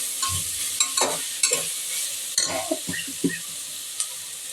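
Ginger frying for chicken kurma, sizzling steadily in a pan while a spoon stirs it in several close, distinct scraping strokes, with no talking.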